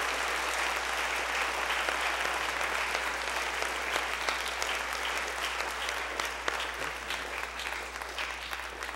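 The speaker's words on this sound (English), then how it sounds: "could we get one more round of applause for not only our 13," An audience at a middle school spring band concert applauds for the band students, with steady, dense clapping from a large crowd that holds evenly throughout.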